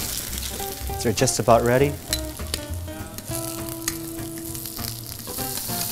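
Food sizzles steadily in a pan with a small sprig of rosemary, garlic and salt, a close continuous frying hiss under a brief spoken remark and a few utensil clinks.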